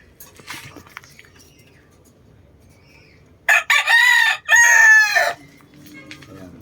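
A broodcock rooster in a backyard flock lets out a loud, close crow in two strong bursts after a few seconds of quiet, faint chicken sounds in the background.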